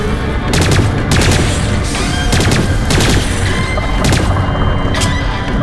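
Dense game gunfire from Lost Planet 3 as monsters are shot, continuous loud rattling volleys with sharp separate bursts punctuating the whole stretch, no voices.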